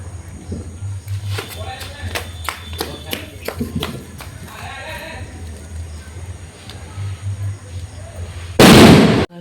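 Diwali firecrackers burst outdoors in a rapid series of sharp cracks and pops at varying distances, with people talking and calling out in between, ending in one loud close blast.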